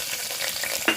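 Onion fries in hot oil with cinnamon and cloves, giving a loud, close, continuous sizzle with light stirring and a brief clink near the end.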